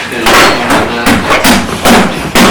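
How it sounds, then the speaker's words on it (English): Hammer blows during outdoor deck construction, a series of sharp, loud strikes roughly every half second, with voices in the background. "More than welcome to borrow somebody else's hammer."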